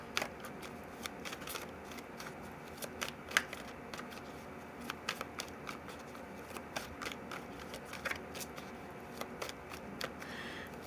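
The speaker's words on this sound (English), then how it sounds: "So let me shuffle" Tarot cards are shuffled by hand in a continuous stream of crisp riffles, soft slaps and papery clicks, close and fairly quiet, with no talking.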